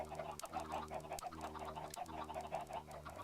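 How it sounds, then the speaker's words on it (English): A chicken in Minecraft clucks in a steady looping pattern of short repeated clucks over a low humming background, fairly faint and with no voices. "we can hear that his chicken's still going"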